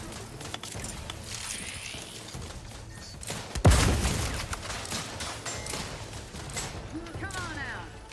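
A star grenade in Outer Worlds 2 goes off as one sharp, loud blast with a falling whoosh, set amid scattered gunfire and game effects, with voices talking throughout.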